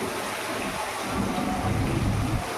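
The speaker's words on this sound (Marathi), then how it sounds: "इकडे पाऊस पडतोय छान असा" Steady rain pours down outdoors, a dense, even wash of hiss with a low rumble underneath that could be distant thunder, with no voices.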